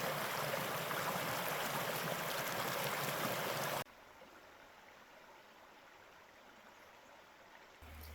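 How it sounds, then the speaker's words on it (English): A creek runs close by in a forest strewn with downed wood, a loud steady rush of flowing water that suddenly drops to a quieter, softer babble partway through, with no talking. "I can hear the creek"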